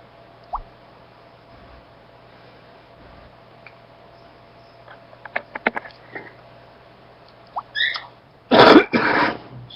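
A man coughs in a quiet room: one small cough early, a cluster of short coughs in the middle, then a loud, harsh burst of several coughs at the end.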